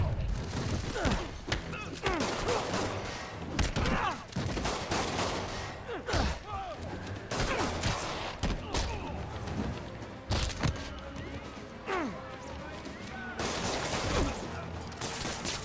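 Dense bursts of gunfire and rapid machine-gun fusillades in Marvel's Spider-Man, loud and near, with thuds and mechanical clanks, continuing in waves throughout with brief lulls.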